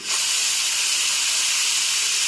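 A pressure cooker cooking dal lets off steam in one loud, continuous hiss that starts abruptly and holds steady.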